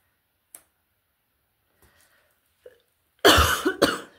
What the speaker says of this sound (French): Je vous demande pardon de tousser.